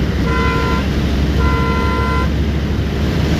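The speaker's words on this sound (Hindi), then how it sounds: "बहुत आदमी को हॉर्न का ये आवाज़ जो है पसंद नहीं है" Two steady horn blasts from a Maruti Suzuki Alto 800 LXi car, each held for about a second, sound over a constant rumble of engine and road noise.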